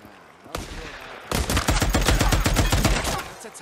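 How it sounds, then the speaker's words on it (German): Gunfire in the video game Days Gone: a sharp shot, then a dense run of rapid automatic bursts that lasts about two seconds over low background rumble, with no talk. "Krieg ich denn die ganze Zeit die Schüsse ab?"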